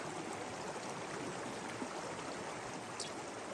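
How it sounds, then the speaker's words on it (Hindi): Steady rushing of a forest stream flows without pause throughout, a continuous broadband wash of moving water in a quiet wooded tiger reserve, with no voices present. "आप यहाँ अपनी जिप्सी खड़ी करके बहते पानी की आवाज को सुन सकते हैं।"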